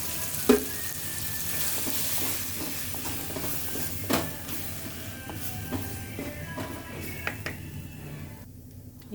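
Chili powder and coriander powder fry in hot oil with onions, giving a continuous close sizzle and hiss, broken by occasional spoon scrapes and clinks against the pan before the sound thins near the end.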